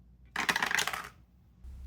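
Dice roll across a table in a kitchen cooking game, a brief burst of hard rattling clatter lasting under a second, then stopping in near silence.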